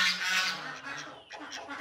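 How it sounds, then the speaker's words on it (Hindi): Ducks inside a shed give harsh, noisy honking quacks, overlapping and loud at first, then fading to fainter calls, with no talking. "ये अंदर बतखों ने शोर डाल दिया"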